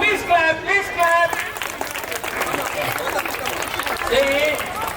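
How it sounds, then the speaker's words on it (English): An audience at a Christmas celebration claps for a prize winner, with a burst of scattered clapping rising through the middle while people talk over it. "Please clap, please clap."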